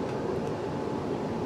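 Interior of a moving British passenger train picking up speed, a steady low rumble of wheels and running gear with even hum throughout, no voices.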